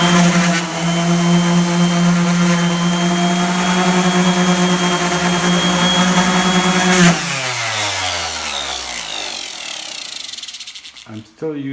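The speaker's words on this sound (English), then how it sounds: "I'm going to be a couple minutes sanding." Power sander working a countertop with 220-grit paper, a loud steady motor whine that holds for about seven seconds, then spins down with a falling pitch and rattles to a stop.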